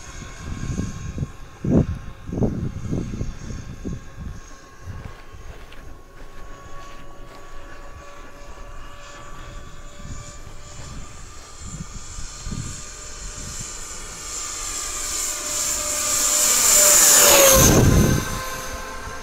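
A model Norwegian 737 Max-7 RC jet airplane flies at reduced power, a steady whining engine tone with pitch shifts that swells loud as it passes close overhead near the end, no talking.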